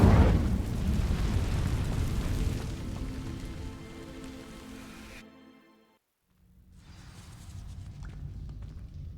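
A roaring crackle of flame from the Incendio fire spell igniting dry vines in Hogwarts Legacy, loud at first and then fading into silence before a softer crackling burn returns.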